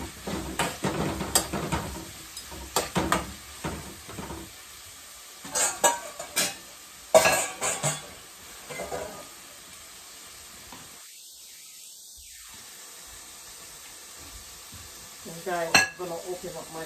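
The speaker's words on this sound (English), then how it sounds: "Let's give it a stir." Saltfish frying in a pan is stirred with a utensil, giving scraping and clattering strokes over a soft sizzle during the first half, then a quieter stretch with a brief clink near the end.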